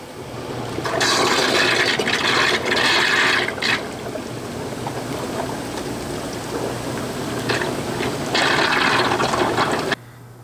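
Jets in a bubbling hot tub spa churn the water with a steady rushing roar, surging louder in bursts and then easing, close by with no talk, cutting off abruptly at the end.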